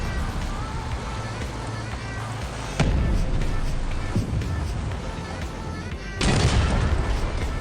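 Shell bursts from an 88 gun in a video game, two loud booming blasts landing a few seconds apart over a dense, rumbling battle background.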